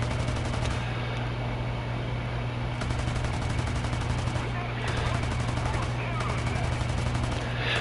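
Gunfire in War Thunder, a steady stream of rapid shots forming a dense continuous rattle under a low engine drone, loud and close throughout.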